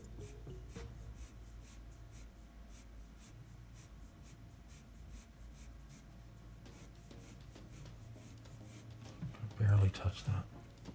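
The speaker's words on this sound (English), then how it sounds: "I'm going to barely touch this with this black colored pencil." A black colored pencil scratches lightly across paper in quick, repeated strokes, a soft rhythmic rasp running steadily before a brief louder bump near the end.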